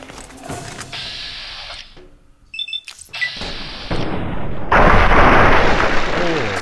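A hunting rifle shot in Fallout New Vegas, a loud sharp blast followed by a rumbling tail, amid other game noise and a burst of heavy roaring sound.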